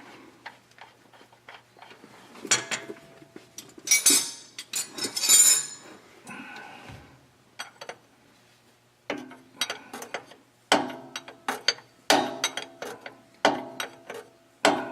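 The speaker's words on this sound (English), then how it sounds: "you go to tighten it up. I believe that's a 1-inch wrench on there." A wrench tightening a bypass oil filter on a 2000 Ford F-550 gives quiet, close ratcheting clicks and metallic clinks in irregular short bursts, with brief pauses between sets of clicks.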